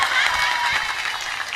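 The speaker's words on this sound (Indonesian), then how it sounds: "Tepuk tangan." An audience applauds at an outdoor sholawat gathering in Sumurjaya, Krangkeng, producing a brief, fairly soft wash of many hands clapping together with faint voices mixed in.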